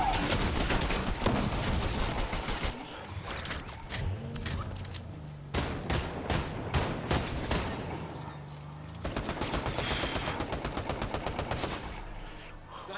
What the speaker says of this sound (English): Guys are shooting at the other people.